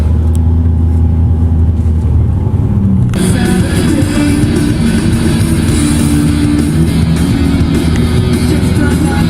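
A Toyota 2JZ-engined car hums steadily with road noise, loud and continuous, the sound brightening partway through as if a window opens or speed picks up.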